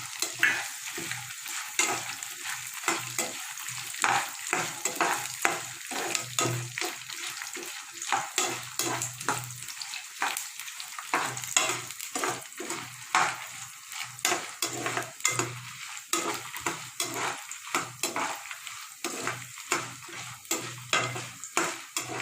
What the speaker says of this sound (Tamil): நம்ம எடுத்து வச்சுருக்க அந்த வேர்க்கடலை எடுத்து வதக்கணும்